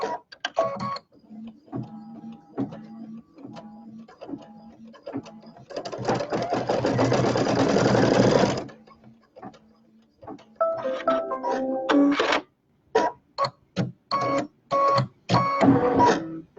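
An embroidery machine stitches a quilt block for a Pineapple Seas quilt: a dense, steady run of rapid stitching for a few seconds in the middle, framed by quieter intermittent mechanical clicks and taps before and after.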